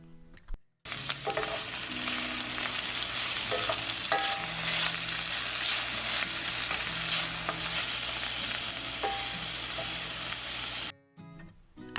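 Sliced peppers and chopped garlic frying in a pan, a steady close sizzle that runs for the whole stretch, with a few faint clinks and stirring scrapes now and then.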